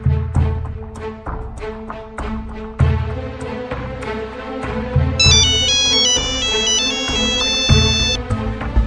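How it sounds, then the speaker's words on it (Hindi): A phone ringtone plays over a rhythmic backing tune, with a bright electronic melody joining partway through, loud and clear. "सरकार भानु प्रताप सिंह का फोन आया है।"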